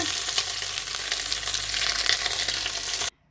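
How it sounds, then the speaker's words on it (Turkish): Stuffed food fries in hot oil with a dense, continuous crackle and sizzle, close and fairly loud, cutting off abruptly at the end. "çok kızartma sesi geliyordu çıtır çıtır"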